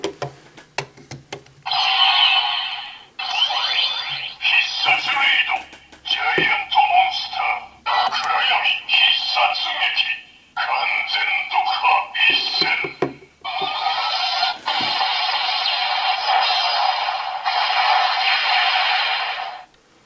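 A DX X-SwordMan Wonder Ride Book toy with the Ankokuken Kurayami sword gives off bursts of tinny, buzzy sound effects and a chirpy announcer-like voice calling "Giant Monster," with short clicks between them.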